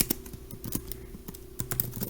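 Quick, light keystrokes on a computer keyboard while writing text during a CSS coding lesson, a steady run of close clicks with no talking.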